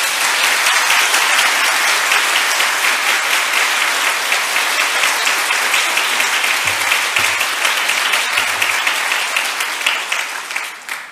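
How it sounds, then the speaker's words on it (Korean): A church congregation applauds warmly in a large worship hall, a dense, steady wash of many hands clapping at once that holds for about eleven seconds before starting to thin out near the end. "힘차게 격려의 박수로"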